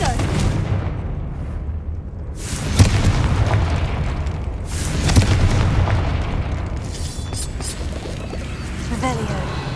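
In the video game Hogwarts Legacy, the Confringo explosion spell goes off in two booming blasts among dense game sounds. A voice calls out over the loud, busy mix.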